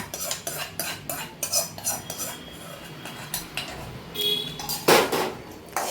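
A metal spoon stirs ghee-roasted sesame seeds, roasted gram and coconut into puffed rice in a metal vessel, giving repeated close clinks and scrapes with a brighter ring near the end.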